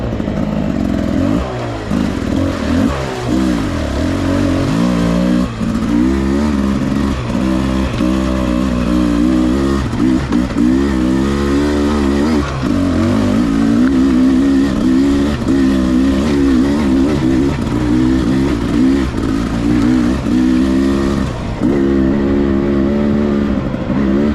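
A 2022 Beta 300 Race Edition two-stroke dirt bike drones loudly and steadily under a gently easing rider during break-in, its engine note rising and falling in smooth, repeated throttle swells with no talk.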